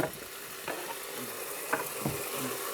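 Food fries steadily in a pan in a traditional Moldovan home kitchen, a constant sizzle broken by a few scraping stirs of a spoon.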